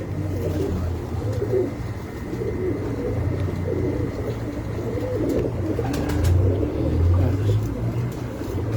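Pigeons coo softly on a rooftop loft in a low, continuous murmur, with faint outdoor background noise and no clear talk over them.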